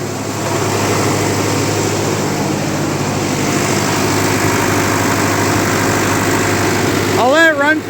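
A 1958 Oliver 550 diesel tractor engine runs steadily and loudly up close, a low rumbling drone with constant vibration that holds unchanged before a brief shift at the end.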